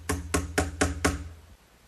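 Five evenly spaced, solid hammer blows drive 4-penny finish nails, toenailed up from the bottom into a 3/4-inch plywood cabinet shelf. The strikes are close and loud, then fall quiet.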